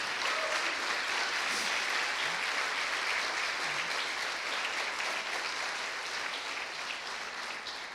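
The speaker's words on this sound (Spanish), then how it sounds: "Dale un fuerte aplauso a nuestro Dios." Church congregation applauding loudly together, a dense sustained wash of clapping that fills the whole stretch and fades only slightly toward the end.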